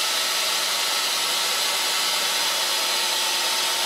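An Arduino-controlled CNC lathe runs with a steady, broadband whirring hiss, constant in level and close by, with no voices over it.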